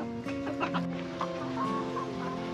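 Chickens cluck steadily on a farm with a mixed flock, several birds calling in overlapping short bursts close by, with no talking.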